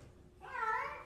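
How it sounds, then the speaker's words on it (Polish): A single short cat meow, fairly close and clear, rising after a brief quiet moment. "O, kot."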